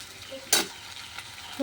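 Chicken coated in masala sizzles in a pan, with a continuous low frying hiss broken by one sharp, loud sizzling burst as the pieces are stirred, close up and without talking.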